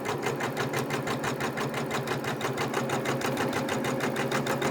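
Embroidery machine stitching a heart applique on a quilt in the hoop, a fast, even, mechanical needle rhythm heard up close and steady throughout.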